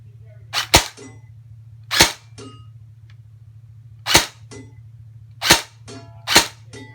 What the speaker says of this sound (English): So now, I'm going to get on the target and shoot down the steel plates.